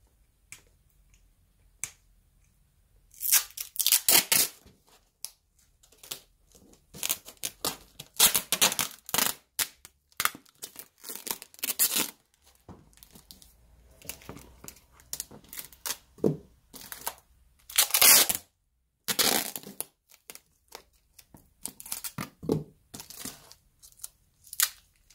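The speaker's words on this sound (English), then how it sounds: "Now time to tape it." Packing tape is yanked off the roll and pressed down while a puppet is wrapped for storage, giving sharp, scattered tearing and ripping bursts between quiet pauses, close and fairly loud.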